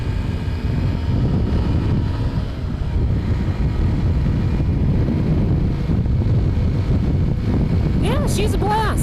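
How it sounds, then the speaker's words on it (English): A Honda XR150L dual-sport motorcycle is ridden at speed, its engine a steady drone buried under constant heavy wind roar, with brief vocal sounds near the end. "Nifty little fun little motorcycle."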